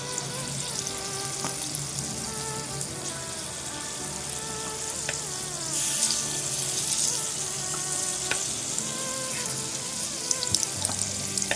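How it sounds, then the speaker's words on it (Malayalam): Unniyappam batter ladled into hot oil sizzles and crackles steadily, a close, continuous frying hiss with occasional sharper pops and a louder burst midway. "നമ്മൾ എണ്ണയിലേക്ക് കോരി ഒഴിക്കുന്നു."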